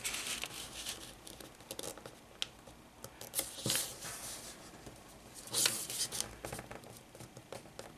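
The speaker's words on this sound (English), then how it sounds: "I'm going to take this edge and fold it over along this crease." Paper being folded along a crease into a triangle shape for a simple paper craft, with soft crinkling and rustling bursts and a few sharper creasing swipes, fairly quiet and close, no talking.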